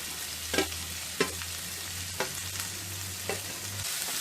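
Ridge gourd peel and chopped ridge gourd pieces are stirred as they cook in a pan over low flame. A steady soft sizzle runs throughout, with a few distinct spoon strokes scraping through at irregular intervals.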